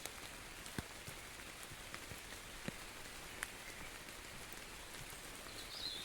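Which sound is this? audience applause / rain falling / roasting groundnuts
rain falling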